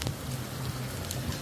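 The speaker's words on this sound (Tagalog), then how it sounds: "Lakas ng ulan." Heavy rain pouring down during a flood on Boracay, a steady dense hiss of falling water with a low hum underneath, no talking.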